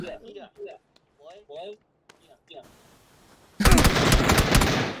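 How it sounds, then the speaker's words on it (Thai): Sustained loud burst of automatic gunfire from PUBG, starting abruptly after a stretch of speech and continuing steadily to the end, with talk in the opening seconds. "เนี่ยมันยิงทะลุสโมก"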